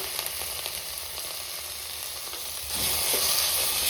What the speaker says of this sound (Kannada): ಇದನ್ನು ಸ್ವಲ್ಪ ಮೈಲ್ಡಾಗಿ ಉರಿರಿ